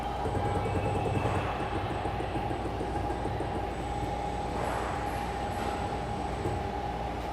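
A steady mechanical hum with a sustained tonal whine and faint rattling texture from a servo-driven ball-screw linear module running auto-tuning, continuous and fairly quiet throughout.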